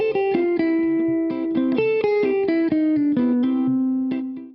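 Electric guitar plays a short melodic line of distinct picked notes stepping through a chromatic passing tone between the fifth and sixth scale degrees, clear and sustained with light effects, alone with no talking.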